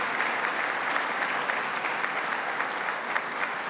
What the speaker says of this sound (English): Let's have them stand up and receive a round of applause.